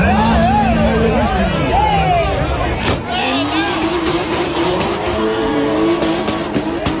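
Volkswagen Caddy passing amid a busy car scene, loud engine roar with tire squeal and skidding, crowd chatter and voices mixed underneath, sustained and close.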